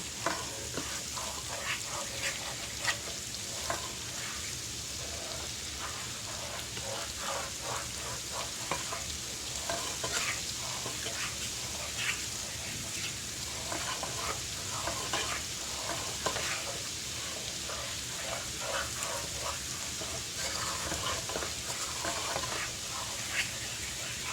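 Garlic heating in melted butter in a pan for a one-pan chicken and parmesan rice, giving a steady, close sizzle with light scattered crackles and occasional stirring clicks throughout, no voices.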